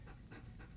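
A police patrol explosive detection dog pants close by in rapid, steady breaths, faint and breathy, with no talking.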